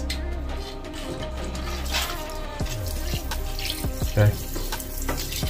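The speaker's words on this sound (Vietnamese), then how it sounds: "Đây mình sẽ dùng vòi hoa sen mình xả rửa luôn." Water gushes from a shower head onto a porcelain toilet bowl being rinsed clean after a stain-removal soak, a steady splashing spray throughout with a brief spoken word near the start.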